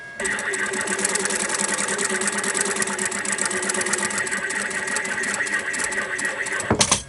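Sewing machine stitching a pocket seam close to the fabric edge, a loud, steady mechanical whir with rapid needle clatter running nonstop, then stopping with a final clunk.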